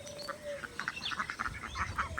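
Ducks on a duck farm quack in repeated short bursts throughout, several birds calling close by and fairly loud, with a faint tonal whistle early on and some background chatter.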